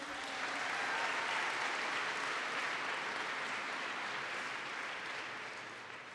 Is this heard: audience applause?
yes